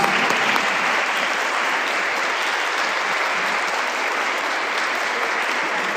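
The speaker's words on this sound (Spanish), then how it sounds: "un aplauso muy caluroso a nuestra amiga Ángeles" Warm, sustained applause from a crowd at a literary gathering, a loud, even roar of clapping held at full strength throughout, with no talk on top.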